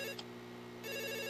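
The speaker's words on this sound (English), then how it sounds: "It always is the phone, huh? Okay, you can keep on ringing." A telephone rings faintly in the horror video game Cage-Face: Subway, a steady electronic ring held against a low hum, briefly dipping then resuming.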